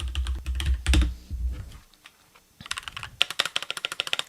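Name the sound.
typing on Keychron K4 keyboard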